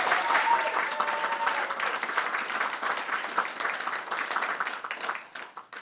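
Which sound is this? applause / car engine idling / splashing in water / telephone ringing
applause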